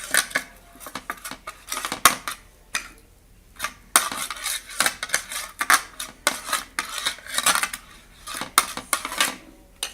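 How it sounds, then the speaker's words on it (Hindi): A spoon scraping and clinking against a pan while sugar syrup is stirred for peanut and chickpea chikki, irregular metallic taps and scrapes close up, with no talk. "आप ऐसे आस्ता आस्ता इसमें चम्मच हिलाते जाएं जब तक ये शीरा नहीं बन जाता।"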